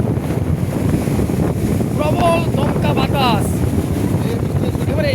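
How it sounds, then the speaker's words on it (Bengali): Heavy rain and gusty wind lash the rough sea at Old Digha at night, a loud, steady roar of wind buffeting and surf that fills the whole stretch, with faint voices briefly rising through it. "প্রবল বৃষ্টি প্রবল বৃষ্টি দমকা বাতাস দমকা ঝড়ো বাতাস"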